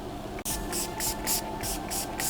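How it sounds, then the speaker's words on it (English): Urban Decay All Nighter setting spray is pumped in quick repeated spritzes, about six short hissing bursts in a steady rhythm, close and clear, following a single sharp click. "I'm using Urban Decay's All Nighter Setting Spray."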